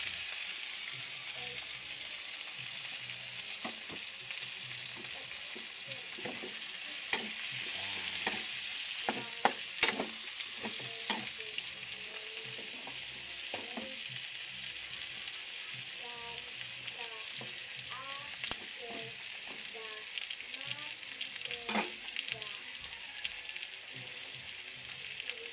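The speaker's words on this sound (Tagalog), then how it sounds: "Gisa natin yung chicken." Chicken sautéing in a pan, a continuous soft sizzle with scattered clinks and scrapes of stirring, close and steady for the whole stretch with no talk.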